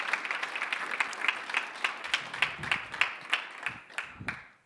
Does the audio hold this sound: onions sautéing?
no